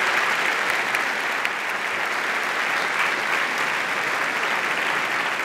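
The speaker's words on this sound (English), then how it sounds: "would you show them your appreciation with a round of applause?" A large congress audience gives staff a sustained, dense round of applause, loud and steady throughout with no talking over it.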